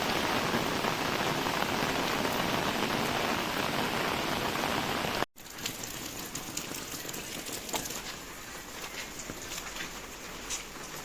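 Heavy early-monsoon rain pours down in a dense, steady patter, breaks off for an instant, then resumes a little lighter with scattered distinct drops.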